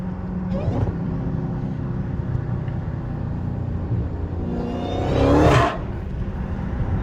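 A Dodge Hellcat engine with mid-muffler delete exhaust rumbling steadily up close, then a sharp rev that rises in pitch and drops off, with a throaty, loud exhaust note.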